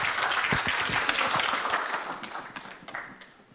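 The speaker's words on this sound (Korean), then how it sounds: "박수로 이렇게 맞으시기 바랍니다." A church congregation claps in welcome at a Sunday worship service, with dense, steady applause that gradually thins and fades over a few seconds.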